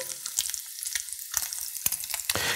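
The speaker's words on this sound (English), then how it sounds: "My bacon is rendering more than enough dripping" Bacon fries in a pan, rendering its fat with a bright, close sizzle broken by sharp spitting pops and crackles, loud and without talking.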